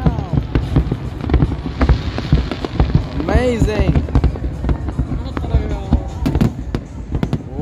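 The world-record New Year 2022 fireworks display at Al Marjan Island crackles and pops in dense rapid bursts, with whistling streaks rising through the barrage, while excited spectators exclaim close by.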